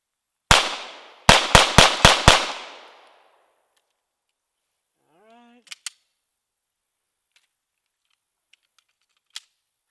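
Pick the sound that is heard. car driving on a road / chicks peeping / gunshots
gunshots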